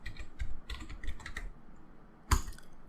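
Quick bursts of typing on a computer keyboard, close and fairly quiet, in short irregular clusters of keystrokes ending with one louder key press.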